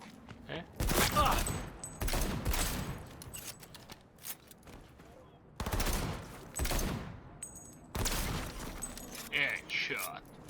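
Gunfire in the video game Cyberpunk 2077: several loud bursts of shots in clusters across the clip, with a voice talking over and between them.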